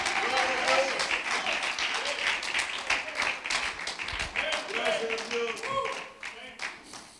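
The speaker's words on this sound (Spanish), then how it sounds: "Alguien que esté de acuerdo con la palabra de Dios, entonces aplauda la presencia de Él en esta hora" A congregation at a Spanish-language church service claps steadily and fairly softly throughout, with voices calling out and speaking over the applause.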